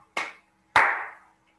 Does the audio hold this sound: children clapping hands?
yes